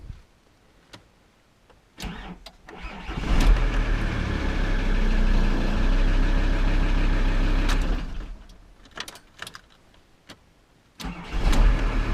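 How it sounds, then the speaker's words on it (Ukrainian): A VW T4 van's starter cranks heavily, and the engine catches and runs for about five seconds before shutting off, close by, with clicks and knocks before and after. "Все чітко запускається. Тільки я щось не зрозумів, що так стартер у мене важко так почав."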